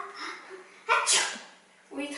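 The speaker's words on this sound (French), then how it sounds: "à la place d'éternuer dans ta main, tu éternueras dans le pli de ton coude." A single sneeze into the crook of the elbow, sharp and close, with a child's or adult's voice talking briefly before and after it in a hand hygiene lesson.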